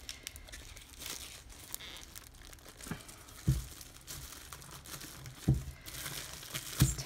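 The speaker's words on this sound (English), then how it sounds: "I'm just gonna go ahead and take off my wrappings here" Plastic wrapping is peeled and cut away from a resin vase mold with soft, close crinkling and rustling, broken by a few sharper crackles, with no talking.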